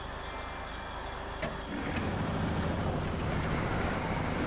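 A Kenworth C-500 truck grinding along in SnowRunner's Amur Oblast region on a log-hauling run. Its engine drones steadily and loudly, swelling a little partway through, with no talk.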